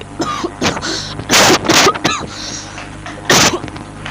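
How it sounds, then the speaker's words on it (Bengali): Several loud, explosive coughs or sneeze-like bursts from one person, coming in separate sharp fits with short pauses between them, close to the mic and with no talking. "সরি এত কাশির জন্য"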